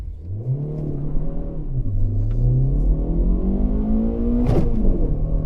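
A stock Lada Vesta Sport on stock tyres pulls hard from a standstill toward 100 km/h, its engine note climbing steadily through the gears with a brief dip at a shift, loud and close throughout.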